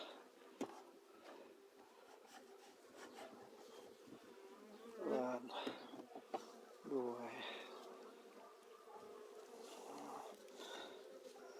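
Buckfast honey bees buzz close by around a hive in a continuous hum, with sharper whining passes as individual insects fly near, and a few faint background noises.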